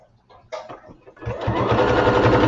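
A sewing machine back stitching a seam: a couple of short stop-start bursts, then a steady close whirring run of rapid stitching that grows louder and holds to the end.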